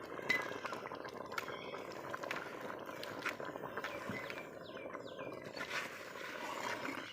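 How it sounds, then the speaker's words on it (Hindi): Tripe (ojri) cooking in vegetable ghee in a pot, giving a steady, dense sizzle and bubbling hiss that runs throughout at moderate level, with no voices. "इस पॉइंट पे जो है इसमें वनस्पति घी शामिल कर देंगे।"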